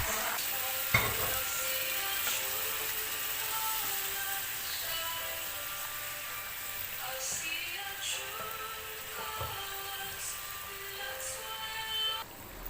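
Chickpeas (chana chole) frying in a pan and being stirred, giving a steady close sizzle with occasional scrapes and light knocks, and faint voices in the background.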